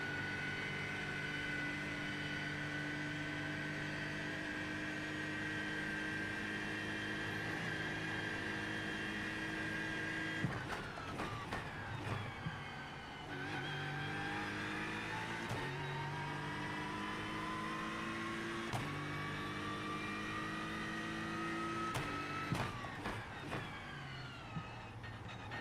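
A GT3 race car engine lapping Bathurst in iRacing, a sustained high whine that holds steady for a long stretch, then drops and climbs repeatedly through gear changes and braking, with sharp shift cuts breaking the tone.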